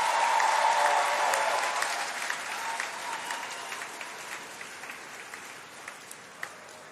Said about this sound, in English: please give all your supporters a big round of applause once again for being here for you